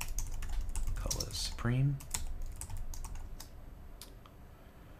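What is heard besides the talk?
typing on a computer keyboard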